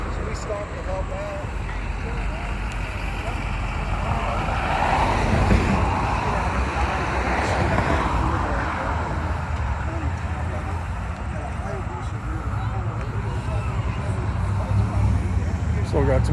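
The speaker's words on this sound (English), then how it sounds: "Still got some cars rolling in." Cars rolling into a car cruise gathering for wounded warriors, with a steady engine and traffic rumble throughout and people talking nearby.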